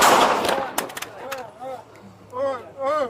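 Gunshots fired during a police encounter with a suspect, a burst of sharp cracks layered with loud commotion, followed by voices shouting and talking over the scene.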